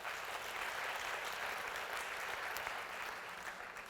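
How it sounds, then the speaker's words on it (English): A keynote audience claps their hands together in a large room, a dense, even wash of applause that sounds somewhat distant and holds steady throughout. "if you noticed a difference, clap your hands."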